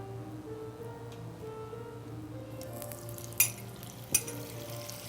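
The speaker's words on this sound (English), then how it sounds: "While that is sizzling, getting that sear and that oil" Faint, steady sizzling and crackle of vegetable oil and margarine heating in a pan, with two brief sharp clinks of metal partway through.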